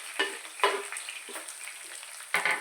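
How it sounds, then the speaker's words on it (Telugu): Onions and green chillies fry in a pan with chana dal, urad dal and curry leaves. Sizzling comes in short bursts as the mixture is stirred, with scraping strokes close by and no talk. "బాగా ఫ్రై చేసుకుందామండి."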